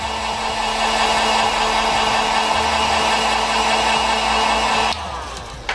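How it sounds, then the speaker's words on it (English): A heat gun blows steadily at close range, warming the adhesive of a scale model light kit with a loud, even whooshing hum that drops off abruptly near the end. "What I'm gonna do is I'm gonna hit it with the heat just a little bit."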